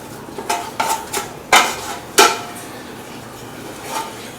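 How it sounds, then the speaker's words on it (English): A plastic scraper works stuck whole wheat pizza dough from the bottom of a bowl, making a few sharp scrapes and knocks against the bowl, closely spaced at first, then fading to quieter scuffs. "there is a lot stuck to the bottom. But that's what this nice plastic, those scrapers are for"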